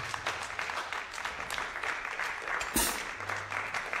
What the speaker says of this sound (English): Can we have one more round of applause for all these musicians?